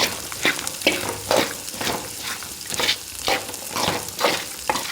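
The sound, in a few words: ivy gourd frying in a pan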